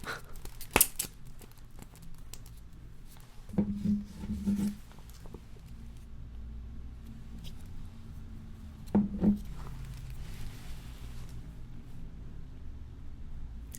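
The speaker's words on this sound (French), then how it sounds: "Si j'arrive à ouvrir le flacon." A small essential oil bottle being opened in a binaural ASMR setting, two brief clusters of tiny close clicks and twists of the cap separated by quiet, faint rustles in between and no talking.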